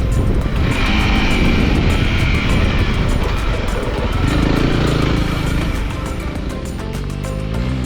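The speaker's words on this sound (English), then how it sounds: "Back on my 300L you can see the slipper clutch working when downshifting aggressively." Honda CRF300L motorcycle engine revving hard through aggressive downshifts with its slipper clutch, loud and continuous at close range with shifting pitch as revs rise and fall, no talk.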